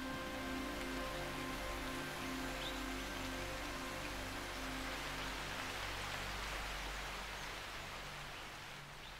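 Rain falls steadily through a tropical rainforest in the mountains, a dense even hiss of drops pattering on leaves that continues for several seconds with no voices, easing slightly toward the end.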